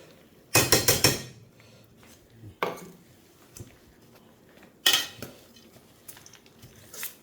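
Charmuri, a puffed rice snack, being mixed in a bowl, with three loud bursts of rattling and clinking from utensil against the bowl, quieter scattered taps between them.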